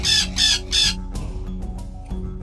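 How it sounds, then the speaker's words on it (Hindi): A parrot calls three times in a row, loud, harsh and close, with short squawks at an even pace, followed by quieter chattering and clicks against a low background hum. "This is parrot."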